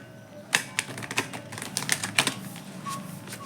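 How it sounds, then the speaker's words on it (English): A deck of tarot cards being shuffled by hand, a run of crisp papery riffles and taps at close range over a faint steady background, with no talking. "Let me give this a good shuffle."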